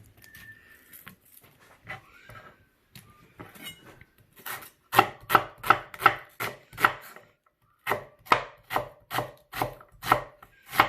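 Onions are chopped Lyonnaise style on a board, a few soft scattered cuts at first, then a run of crisp, evenly spaced knife strokes, close and distinct, with a brief pause before more rhythmic chopping.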